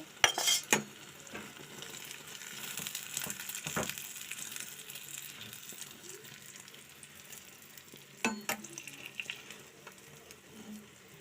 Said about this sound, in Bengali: আর এই পাশটা একটু ডিম দিয়ে দিচ্ছি